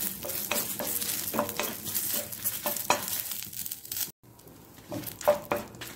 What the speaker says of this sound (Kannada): ಕರಿಬೇವಿನ ಸೊಪ್ಪು ಸ್ವಲ್ಪ ಫ್ರೈ ಆಗುವಾಗ ಅಷ್ಟೊತ್ತಿಗೆ ಸ್ವಲ್ಪ ಈ ನಮ್ಮ ಮೆಣಸು ಉಬ್ಬಿ ಬರ್ತದೆ